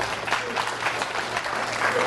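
Steady audience applause at a lecture in Sedona fills the space, a dense wash of clapping from a crowd, sustained and fairly loud.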